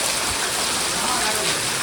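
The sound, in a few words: heavy rain falling at night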